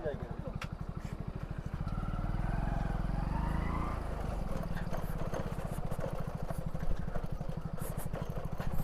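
A Hero Splendor motorcycle on a ride toward Devprayag, its single engine putting out a steady, rapid close throb with a brief rise and fall mid-ride, wind noise over it and voices talking.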